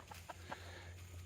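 Chickens clucking softly inside a small chicken tractor set over a garden bed, a few short clucks close by over a steady low background hum.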